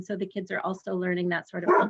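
A dog barks and yips in the background while a person keeps talking over it during a career talk, the barking mixed under the steady voice.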